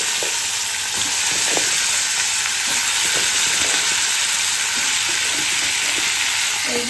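Pumpkin and potato frying in hot oil seasoned with green chilli and five-spice, a loud continuous sizzle with faint scattered stirring clicks, steady throughout and without speech.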